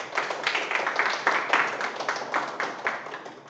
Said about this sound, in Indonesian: tepuk tangan untuk kelompoknya Lala